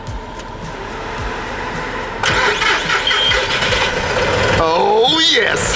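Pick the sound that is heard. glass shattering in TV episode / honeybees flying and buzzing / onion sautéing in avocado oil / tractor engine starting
tractor engine starting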